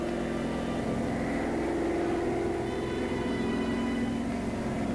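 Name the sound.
German reconnaissance plane flying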